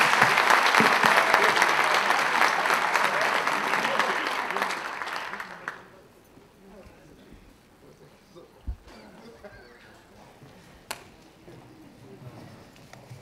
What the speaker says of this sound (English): If we can take a moment to just give a round of applause to this awesome panel.